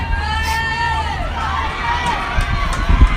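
Crowd cheering at a baseball game: a broad, continuous roar of spectators with rising and falling swells, fairly loud, with a voice talking over it.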